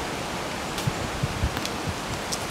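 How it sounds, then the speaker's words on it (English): Wind and rain by a riverbank on a darkening evening, a steady dense hiss of rain and rushing air with a few soft thumps, close and constant, no voices. "getting real windy, real dark,"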